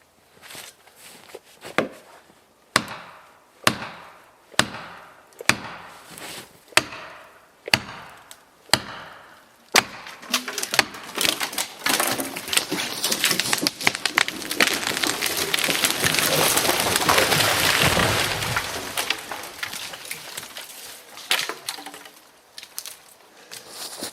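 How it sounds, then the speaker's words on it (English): Felling wedges driven into a tree cut with sharp, evenly spaced blows, about nine loud ringing strikes at a steady rhythm, followed by a dense, crackling rush of splintering wood and the tree coming down. "now I can work it down with the wedges"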